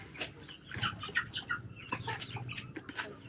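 Chickens on a self-built homestead in the Philippines cluck in short, scattered bursts, faint and somewhat distant, with a few higher chirps mixed in.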